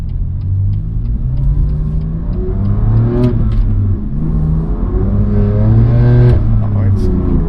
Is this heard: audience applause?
no